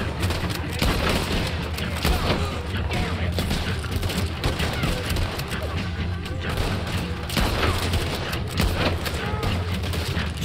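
Bolt-action rifle shots in Red Dead Redemption 2 during a firefight, with steady gunfire and booming reports across the whole stretch, loud and dense, with voices in the clip talking over the shooting.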